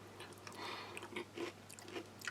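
Close, crunchy chewing of a salted snack from a US Army halal roast beef and vegetable MRE, several bites and crisp crunches in an uneven rhythm, heard alone without talk.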